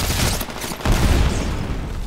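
Heavy gunfire in a Titanfall battle, a loud continuous wash of shooting and blasts with a brief dip before another burst, close and dense.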